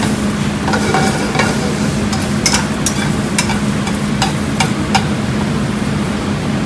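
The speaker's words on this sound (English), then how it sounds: "See the way the mushrooms are starting to caramelize a little bit?" Mushrooms sizzle steadily and loudly in a hot pan as they caramelize, a dense, constant frying hiss broken by several light scraping stirs of a utensil.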